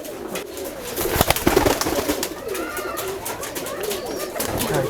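Rajshahi flying pigeons coo on a farm where many birds are kept, their low overlapping calls steady and close, with a burst of wing flapping and scuffling early on and a voice faintly underneath.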